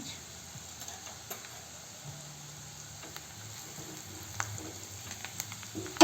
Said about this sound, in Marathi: असं छान फिरवून घ्यायचं कमी गॅसवर